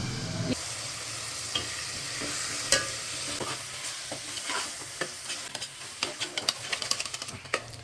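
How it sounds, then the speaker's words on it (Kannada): Chicken sizzles in biryani masala in a pan, a constant frying hiss broken by sharp scraping clicks from stirring that come quicker and louder toward the end. No voices. "ಮಸಾಲ ರೆಡಿ ಆಯ್ತು ಬಿರಿಯಾನಿ ಮಸಾಲ ಚಿಕನ್ ಅದು ತೊಳೆದಿನಿ ಈಗ ಚಿಕನ್ ಹಾಕಿದೆ"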